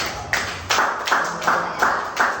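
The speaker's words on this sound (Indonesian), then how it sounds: "kita kasih tepuk tangan dulu" Hands clapping in time at a health talk or gathering, about five sharp, evenly spaced claps close by and fairly loud, with a faint voice in the background.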